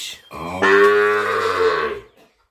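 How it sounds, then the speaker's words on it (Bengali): Sahiwal bull calves at a cattle market in Ambari, Parbatipur, give a single long, loud bellowing moo that swells and then fades, with no talk around it. "আপনাদেরকে আমরা সেরা মানের কিছু ষাঁড় বাছুর দেখাবো"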